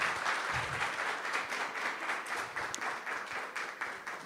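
Audience applause at a community conference in Dublin, a steady wash of clapping from a moderate crowd heard from a little distance, fairly even and sustained for the whole stretch.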